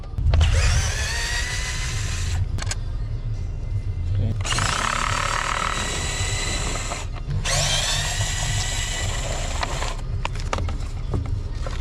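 A power driver fitted with a T30 Torx bit backs screws out of a 2014 BMW 428i. Three long, loud whirring bursts are heard up close, separated by short pauses with small clicks and handling noises.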